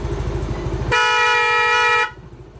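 Over a close engine rumble, the horn of a Yamaha Mio Fino fuel-injected scooter sounds once in a single sustained beep lasting about a second before stopping.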